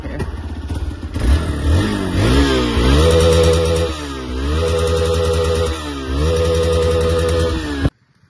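A motorcycle engine idles, then revs up repeatedly in rising and falling surges, loud and close, before cutting off abruptly at the end.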